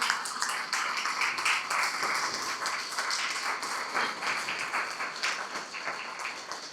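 An audience applauds steadily to welcome Marcela Mazzini, vice-dean of a faculty, at a talk on Amoris Laetitia; dense, even clapping of moderate loudness fills the whole stretch with no voices.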